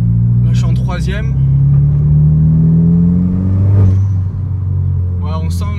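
A 400 hp front-wheel-drive VW Polo R WRC Stage 2+ accelerates hard in third gear with wheelspin, its engine note climbing steadily in a loud, close drone while someone talks over it.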